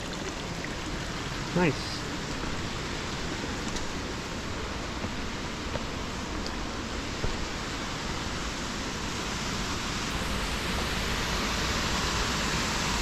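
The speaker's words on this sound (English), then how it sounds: "There's a little spring." A small spring on a bamboo forest trail gives off a steady, broad hiss of running water, continuous and fairly near, with a brief spoken remark at one point.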